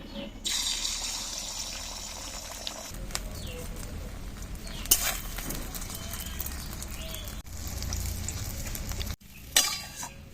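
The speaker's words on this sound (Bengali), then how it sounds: "তেল গরম হয়ে গেছে এবার ডিমটা দিয়ে দেবো" An egg goes into hot mustard oil in a heated pan, and a loud hissing sizzle rises and holds for several seconds. There are a few clanks and stirring noises, and a sharp break comes near the end.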